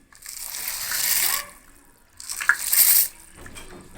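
Macaroni is tipped into a pot of boiling water in two short bursts, each a bright rushing splash and rattle, separated by quiet bubbling.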